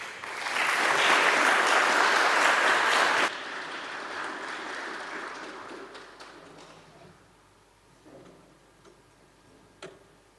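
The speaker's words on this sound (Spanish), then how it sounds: "Vamos a recibir a dúo de soprano con fuertes aplausos." An audience at a church Bible seminar applauds a soprano duo with dense, loud clapping for about three seconds, then quieter scattered claps that fade into a few isolated claps.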